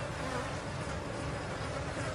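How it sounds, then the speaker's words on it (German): Wasps and flies in a meadow, a steady dense buzzing hum that holds without pause, faint and close with no talk. "das sind natürlich überall Wespen, Fliegen,"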